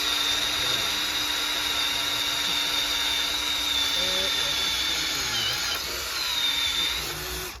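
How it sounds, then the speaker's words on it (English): A power drill whines continuously at a steady high pitch, with small shifts in tone as it bores, and no talking over it. "Make sure your drill's upright both ways."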